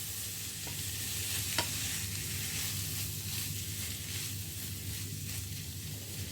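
Boiled mung beans are tipped into a hot pan and stirred for a healthy breakfast dish, a steady close sizzle with soft scraping and one brief clink, with no talking.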